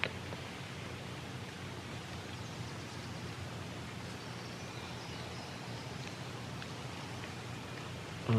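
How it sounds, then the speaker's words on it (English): Steady rain falls in the woods during a spring turkey hunt, a soft, even hiss of drops on leaves that continues without a break and without voices. "this rain, I know it's coming"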